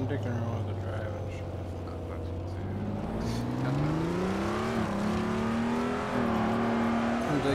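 Car engine revving and surging while being driven recklessly, pitch climbing and falling in sustained waves over steady road noise, with a voice talking over it.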